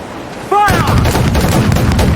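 Ship cannon volley in Assassin's Creed IV Black Flag, a loud burst of overlapping booms that erupts right after a shouted command and rolls on densely to the end.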